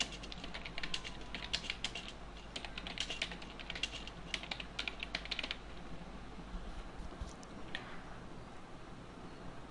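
Rapid keystrokes on a computer keyboard while entering a one-line PHP code comment, close and fairly quiet, arriving in irregular bursts that thin out toward the end.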